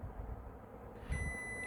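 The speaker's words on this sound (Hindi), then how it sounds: "बज़र देनी शुरू होगी।" A multimeter set to continuity mode, testing an IGBT, starts a steady high-pitched buzzer tone partway through and holds it over a low background hum.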